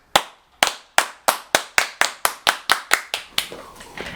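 A small group of people claps in slow, evenly spaced unison beats, about a dozen sharp close claps. The claps gradually speed up and blur into scattered applause at the end.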